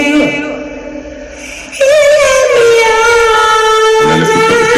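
A dub mix on a mixing desk with a delay effect but no feedback loop: sustained tonal music with a sung vocal line, the delayed echoes dying away instead of building, loud and continuous.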